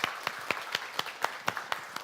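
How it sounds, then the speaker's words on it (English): Rhythmic applause for a panel on indigenous fashion and technology, with individual claps evenly spaced about four times per second, fairly faint and close. "I just want to give a round of applause for each person on this panelist"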